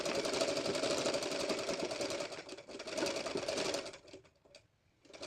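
A sewing machine stitches the folded edge of a halter neck blouse, running in a fast, steady chatter up close. It slows and pauses briefly near the end, then starts again.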